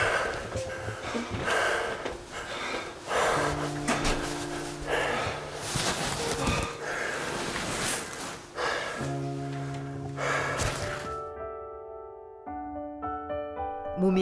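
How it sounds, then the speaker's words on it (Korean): A man with pulmonary fibrosis, back from exercising on a mountain, breathes in heavy, labored gasps and snorts with irregular rhythm, close and loud, while faint tonal background music sounds underneath. "운동을 마치고 산에서 돌아온 그의 숨소리가 어딘가 심상치 않습니다"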